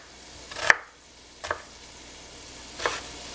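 A knife cuts onions for turkey chili in three sharp, separate chops on a board, spaced about a second apart with quiet gaps between.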